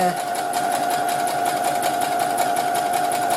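Close, steady hum and rapid rattling stitch of a sewing machine running continuously while sewing a small lavender-filled fabric bag, loud and uninterrupted.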